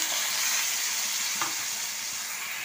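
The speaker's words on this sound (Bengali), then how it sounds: "এবার যে মশলা মাখার যে জলটা আমি দিয়ে দিলাম" Spice-mix water poured into a hot pan of fried fish for fish vindaloo, giving a loud, steady sizzle with a short flare-up midway, with no talking.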